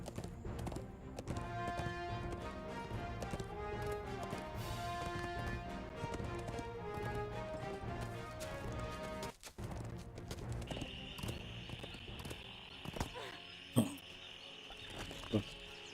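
A horse gallops in a video game set around Saltmarsh, a fast rhythmic clip-clop of hooves under game music, breaking off partway through before scattered effects.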